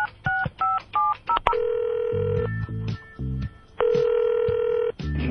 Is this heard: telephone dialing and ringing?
yes